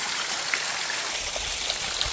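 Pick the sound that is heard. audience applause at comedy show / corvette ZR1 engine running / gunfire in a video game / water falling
water falling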